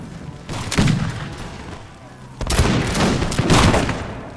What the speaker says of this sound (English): So we're now going to open fire on these guys here.